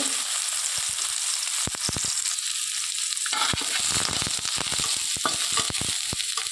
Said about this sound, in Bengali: এবার এই তেলের মধ্যে সয়াবিনগুলোকে দিয়ে ভালো করে ভেজে নেব